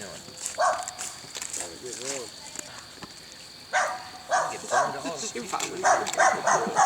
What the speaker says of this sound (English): the neighbor's dog's just right over there start barking